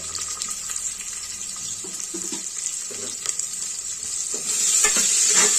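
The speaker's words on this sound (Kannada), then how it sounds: "ನೀಟಾಗಿ ಈರುಳ್ಳಿನ ಫ್ರೈ ಮಾಡ್ಕೋಬೇಕು" Thickly sliced onions frying and being stirred in a pan for methi bath, a close crackling sizzle with spatula scrapes that grows louder and hissier toward the end.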